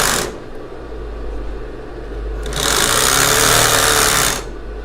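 A sewing machine stitches elastic lace on a bra, a close rapid mechanical whirring in two bursts with a low motor hum between them and no talking.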